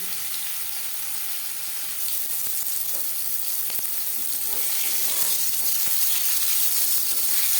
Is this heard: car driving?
no